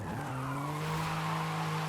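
A BMW in the racing game Forza Horizon 5 skids after a handbrake pull, its tires squealing loudly over a steady droning engine note for a couple of seconds.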